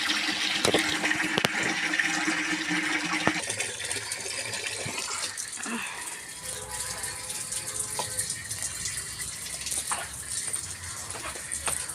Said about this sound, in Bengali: রান্নার বালতিতে জলটা তুলে নিই